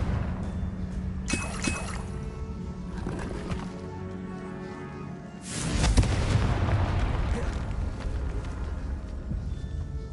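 A Confringo fire spell explodes in Hogwarts Legacy inside a decayed catacomb. A sharp crack comes first, then a loud, broad blast that rumbles through a steady game ambience.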